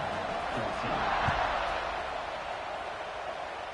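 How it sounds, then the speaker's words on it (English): Football stadium crowd buzzing after a score, a steady murmuring roar of many voices with a brief swell and a few thumps early on, moderately loud and continuous, with commentary faint beneath it. "this crowd is buzzing after that last score"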